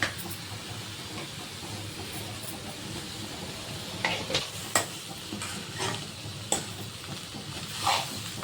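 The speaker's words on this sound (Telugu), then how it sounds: "సో ఇది మంచిగా మిక్స్ అయ్యే విధంగా కలుపుకుందాం" Bodakakarkaya fry with red chilli powder being stirred in a pan, soft sizzling under repeated scraping strokes of a spoon against the metal, with several sharper clinks spaced through the second half.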